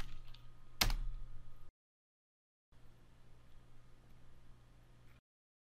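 Close, crisp keystrokes on a computer keyboard as a Linux remote desktop command is entered, one sharp key strike followed by a short pause and then a steady, quieter run of typing.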